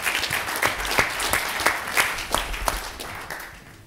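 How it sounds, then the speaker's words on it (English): Audience at the MIPIM 2011 property conference bursts into steady, full applause, many hands clapping together in a dense wash that stays loud throughout and tapers slightly at the end. "Give him a round of applause."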